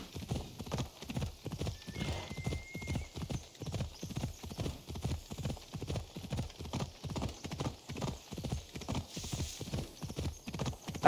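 Steady, rhythmic hoofbeats of a horse galloping in the video game Assassin's Creed Odyssey, loud and close, a regular clip-clop pattern running throughout with a faint electronic tone briefly in the background.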